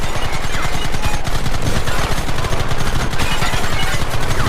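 Sustained gunfire fills a Red Dead Redemption shootout, dense overlapping shots and rapid bursts rolling continuously at loud, close range with no pause, no voices audible over the volley.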